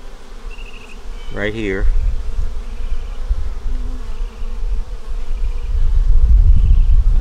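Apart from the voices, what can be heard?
honeybees buzzing around capped queen cells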